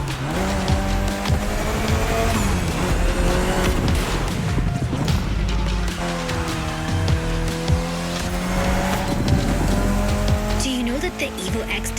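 A Mitsubishi Evo X race car laps in The Crew Motorfest, engine droning with shifting pitch while tires squeal through corners, continuous and close, with a voice talking over it.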